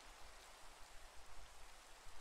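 Rain falls in a Minecraft game server, a soft continuous patter and hiss, faint and steady with slight fluctuations, heard alone without voices.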